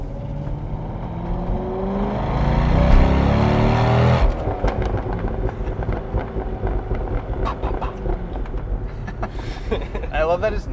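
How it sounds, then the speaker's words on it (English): Wind noise roars inside a moving C6 Corvette, with a low engine drone that rises for about four seconds. It then drops to a rougher, fluttering rush with pops as someone talks over it. "it's a lot more wind noise than I thought."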